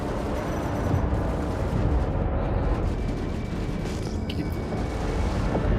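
Spaceship under attack in the Star Citizen video game, with dense rumbling booms and crackling explosions rolling continuously and loudly through the whole stretch, no voices heard.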